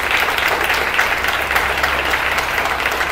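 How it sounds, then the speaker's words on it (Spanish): A crowd of listeners at a speech applauds loudly and steadily, dense clapping filling the whole stretch with no voices on top. "Y está bien que aplaudan, chicos"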